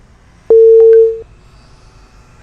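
A telephone line gives a single steady tone lasting under a second after a call is hung up, loud and clean, followed by quiet line hiss.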